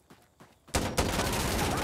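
Gunfire in the Insurgency Sandstorm video game, a couple of faint distant shots followed by a loud sharp burst of close shots that rings out and lingers to the end.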